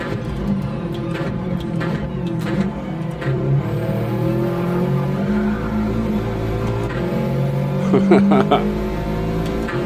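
Subaru WRX race car in a racing video game, engine droning steadily at close range with shifting pitch as it accelerates, brief tire squeals and skid bursts near the end, no talk.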